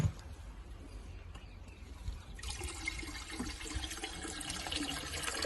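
Nutrient water pouring out of a filter tank on an organic paddy farm, a steady rushing gush that swells louder midway and keeps flowing, no voices.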